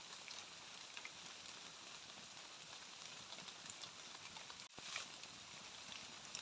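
Rain falls steadily in a forest in winter as a dense, even hiss of drops, fairly faint, with one brief dropout near the end.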